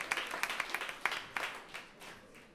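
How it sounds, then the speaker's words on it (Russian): An audience at an opera concert applauds after an aria, scattered sharp claps with a thinner, fading patter, heard from a moderate distance and fairly faint. "аплодисменты говорят о себе"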